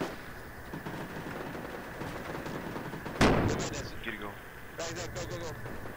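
Frag grenades detonate in the Project Reality game, a sharp loud blast midway followed by rumbling decay, with scattered gunfire and radio-like chatter around it.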